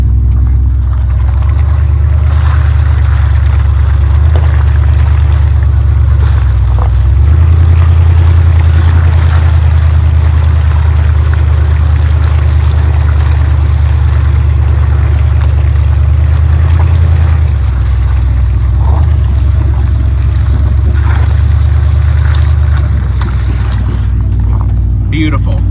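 A 1980 Ford Bronco's heavy engine drones low and steady for a long stretch climbing a hill, loud and close, with rattling and brief voices over it.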